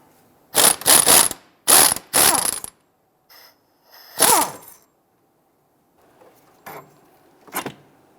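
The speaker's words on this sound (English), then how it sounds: "Using an 18mm swivel socket and our 21mm wrench, just got to loosen and remove this bolt here." A ratchet wrench with an 18mm swivel socket loosens a bolt on the rear left CV axle of a 2011-2019 Ford Explorer, producing several loud, close bursts of pawl clicking separated by pauses, then fainter clicks at the end.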